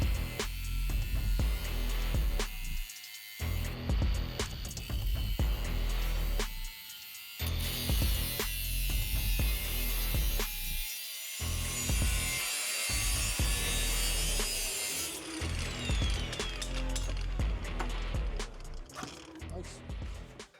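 Angle grinder cutting around an exhaust pipe for a catalytic converter on a Toyota Supra MK4, a harsh rasping whine that comes in repeated bursts with short pauses between cuts.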